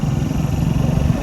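A motorbike engine runs with a steady low rumbling drone, loud and close, unbroken for the brief moment, with no talking.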